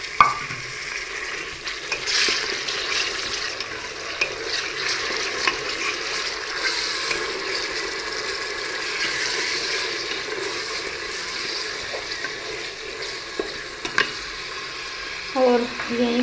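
Chopped tomatoes hit a pan of vegetable palao and fry with a steady sizzle, stirred now and then with faint scraping, a brief louder clatter near the end and no talk.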